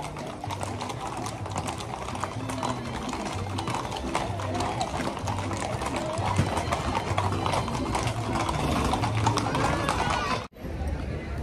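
Horses' hooves clip-clop steadily and close by during a civic and military parade for September 16 in El Grullo, Jalisco, under continuous crowd noise and a talking voice, until a brief dropout near the end.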